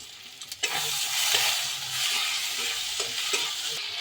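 Spiced masala with ginger paste and sugar sizzles in a pan for potato egg curry, a steady loud frying hiss broken by scraping stir strokes, close up.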